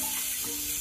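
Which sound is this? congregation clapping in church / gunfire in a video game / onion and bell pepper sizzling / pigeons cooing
onion and bell pepper sizzling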